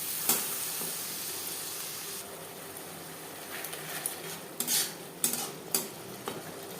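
A ground paste of ginger, green chili and tomato frying in a pan for a hilsa and potato curry, with a soft steady sizzle and a few scraping stir strokes near the end.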